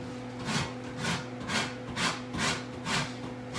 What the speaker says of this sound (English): This one here is just more or less grating the rind.